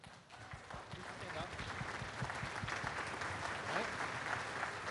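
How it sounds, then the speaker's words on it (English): Steady, dense audience applause for student designers fills the room at moderate loudness, rising slightly and holding through the stretch, with a voice talking over it. "I just wanted to acknowledge them here so they could be applauded for"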